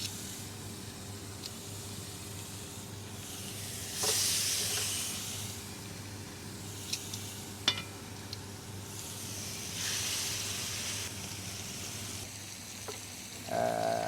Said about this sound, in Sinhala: මේ තෙල් එක දඟලන්නේ.